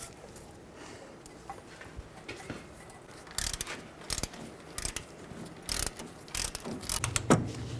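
A ratchet tightens a hub bolt on a 2002-06 Chevy Avalanche, giving quiet clicks at first and then bursts of louder, quick ratcheting strokes, with metal clinks between them.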